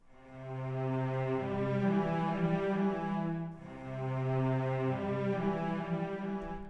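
Sustained sampled orchestral string chords with a slow attack swell in gently and hold, two long bowed phrases separated by a brief pause, smooth and mellow.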